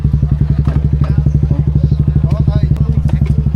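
A broken-down motorcycle that will not start, close up, with a rapid, regular chugging pulse of cranking that keeps going without catching. Voices are present in the background.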